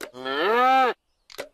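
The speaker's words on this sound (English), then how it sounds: "Nah, that's the sound of a cow." A cartoon sound effect of a cow gives one loud, close, drawn-out moo, then a short clack follows after a brief silence.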